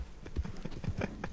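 Horse hooves clip-clop in Red Dead Online, a quick uneven run of close, hollow thuds over about a second with faint game ambience beneath.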